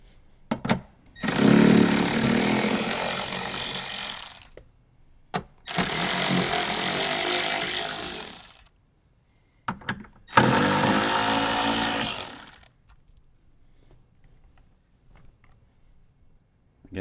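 Three separate bursts of buzzing power-tool whir, each a few seconds long, with short clicks in between, as the bolts holding a factory 6.5-inch door speaker in a Toyota 4Runner are driven out with a 10mm socket; no talking.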